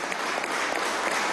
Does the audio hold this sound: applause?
yes